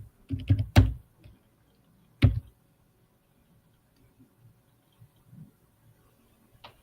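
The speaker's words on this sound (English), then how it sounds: "Now look, if I type in Puffy" Typing on a computer keyboard, a few close key clicks bunched near the start and one more a moment later, then faint scattered taps in a quiet room.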